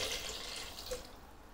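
Chicken stock pours steadily into a cooking pot of browned chicken, mushrooms and vegetables, a brief, soft liquid splashing that runs evenly and tapers off.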